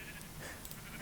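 A sheep bleats once in Minecraft Bedrock Edition, a short digital baa over a dense, loud background, alone with no talk.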